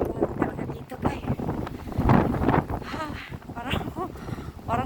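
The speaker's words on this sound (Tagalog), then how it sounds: "Parang madadala ko sa hangin." Strong, cold wind buffets the microphone in a steady, loud roar while people walk outdoors, with people talking throughout over the gusts.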